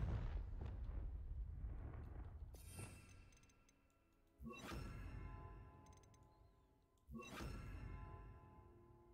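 Repeated blasts of the Confringo spell in Hogwarts Legacy, three heavy explosive bursts a couple of seconds apart, each followed by a rumbling decay, loud and close with no talking.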